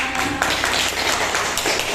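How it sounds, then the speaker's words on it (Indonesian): Classroom applause for a student named Sela, a quick burst of many hands clapping in a fast irregular patter, fairly loud and close. "Tepuk tangan untuk Sela."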